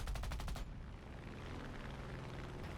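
The guns of an F4U-1A Corsair fire in a rapid, loud burst in a flight combat game, then cut off to leave the steady drone of the aircraft engine.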